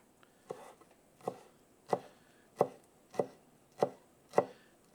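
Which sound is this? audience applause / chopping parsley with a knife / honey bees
chopping parsley with a knife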